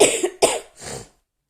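Three harsh coughs in quick succession, close and loud, then silence.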